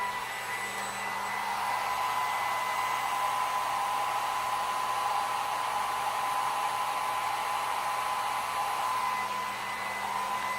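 Blow dryer fitted with a diffuser running on its low setting, a steady close whirring hum with a constant airy rush that holds evenly throughout.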